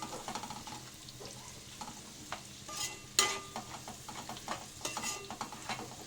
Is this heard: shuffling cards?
no